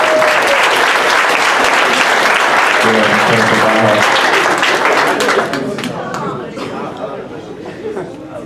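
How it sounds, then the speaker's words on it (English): A crowd at a high school comedy hypnosis show claps loudly with some cheering and voices mixed in, then the applause thins and fades into scattered claps and chatter. "Round of applause if you guys are having a good time"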